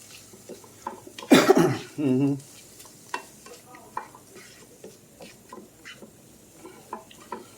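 A cook coughs and chokes on pepper fumes while making a ground turkey fajita and cabbage dish: two harsh bursts early on, followed by light stirring and scraping in a pan with a faint sizzle.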